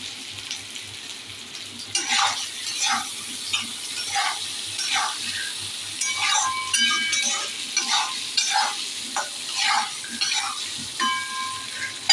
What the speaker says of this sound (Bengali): বেশি করে ভাজবো না, নাহলে গলে যাবে।